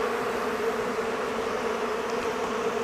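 Honey bees swarming during a hive split make a dense, continuous droning buzz, loud and close, steady throughout with no talking.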